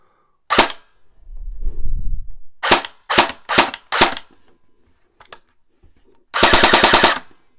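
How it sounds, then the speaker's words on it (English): Test firing of a CYMA MP5 Blue Edition airsoft gun with the hop-up turned fully off: one sharp shot, several separate single shots, then a closing rapid full-auto burst of clicking cracks, close and loud, with a low rumbling handling noise between. "So let's give this thing a test fire and see what it's actually like"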